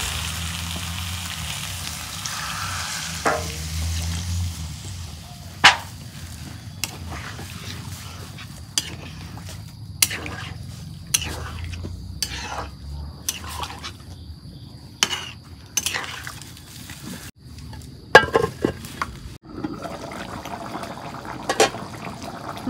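Chicken meat frying in oil with a little water in a pot, giving a steady bubbling sizzle broken by sharp utensil clinks and scrapes against the pan, with no voices.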